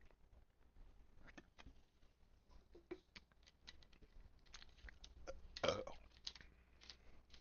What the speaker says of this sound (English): Was that burp entertaining?